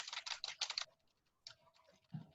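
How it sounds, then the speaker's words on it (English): Rapid keystrokes on a computer keyboard during an online group presentation, a dense burst of clicking at the start, then a few scattered taps after a pause, picked up faintly through an open microphone. "somebody is typing"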